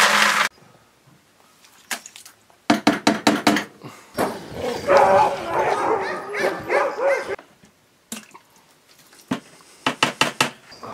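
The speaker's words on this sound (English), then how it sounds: "I'm living and working with 62 sled dogs, you know, right out my front door" A yard full of sled dogs at feeding time bark in quick repeated bursts, with whimpers, yips and whining howls in between, close and loud with short quiet gaps.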